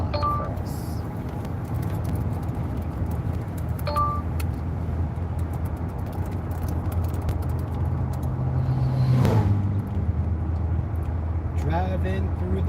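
A car drives through mountain roads on the way to Gaspé, Quebec, with a steady engine and road rumble, faint clinks and a few brief tones, while people talk over it inside the cabin.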